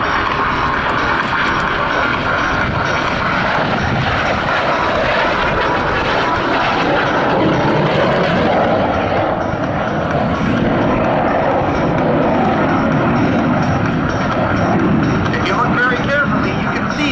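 A Canadair Sabre jet flies at a military forces day airshow, making a loud, continuous roar that fills the whole stretch and swells and shifts slightly as it passes.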